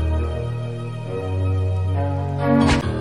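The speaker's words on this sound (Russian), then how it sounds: "Вот это будет наш главный сэмпл. Он будет главным мелодическим сэмплом." A melodic sample plays as the main loop of a phonk track made in FL Studio. Sustained, heavy low tones sit under a brighter layered melody, and a sharp noisy hit comes near the end of the short phrase.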